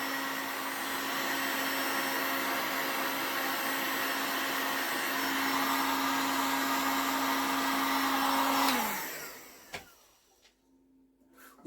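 Hot air blower heating the end of a hose, a steady whooshing fan hum at moderate level that runs for several seconds, then winds down and stops, followed by a couple of faint knocks.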